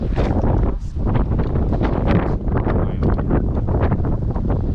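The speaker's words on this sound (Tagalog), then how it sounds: "Ang hangin sa labas, mahangin." Strong gusting wind buffets the microphone in loud, continuous roaring bursts, with no talking.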